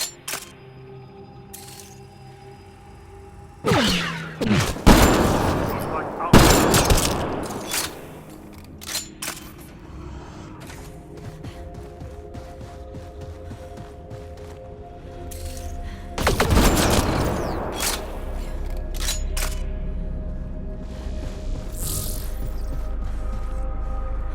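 Gunfire in the sci-fi video game Mass Effect: Andromeda: a few sharp single shots early on, then heavy rapid volleys around the middle and again later, loud and close over a low game ambience with musical tones.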